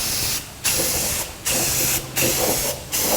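Aerosol spray paint touched up over primer on a 1982 Jeep CJ7 frame: four short bursts of hissing spray, each under a second, separated by brief pauses, close and fairly loud.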